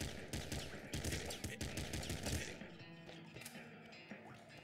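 Rapid gunfire in the video game Nuclear Throne, dense bursts of sharp shots for the first few seconds, then sparser cracks as the barrage thins out.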